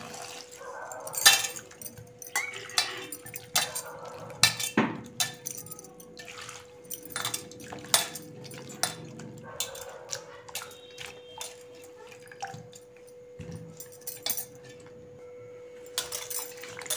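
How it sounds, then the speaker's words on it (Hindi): Simbal (silk cotton) flowers are washed in a big pot of fresh water, making scattered metallic clinks, knocks and small splashes at irregular intervals. The sounds are close and fairly quiet, with no voices. "अभी हम इसको अच्छे से धोएंगे ताज़ा पानी से"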